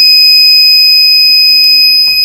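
An Arduino UNO R3 alarm buzzer in a smart home appliance controller sounds a loud, steady, high-pitched electronic tone that holds without a break for the whole stretch, with no one talking.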